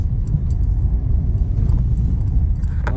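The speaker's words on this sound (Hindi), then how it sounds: "ये कैबिन नॉइज़ बहुत हो गया इस पर। देखो हर जगह से भड़बड़ भुड़बुड़ भड़बुड़ भड़बुड़ आवाज़ें आ रही हैं।" Steady low road rumble inside a Ford Figo diesel cabin while driving, with faint scattered rattles and clicks over a constant drone and no talking.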